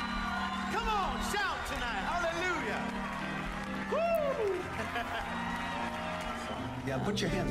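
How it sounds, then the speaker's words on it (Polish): Audience applause at a church healing service, steady clapping and crowd noise from a large room running under a voice and loud calls throughout. "Halleluja, oddajcie Bogu oklaski."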